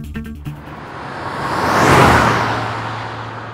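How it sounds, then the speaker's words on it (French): A Renault 8 Gordini race car sweeps past, its engine noise swelling to a loud peak mid-pass and then fading away, with no talk. "La R8 à moteur Gordini s'illustre en compétition."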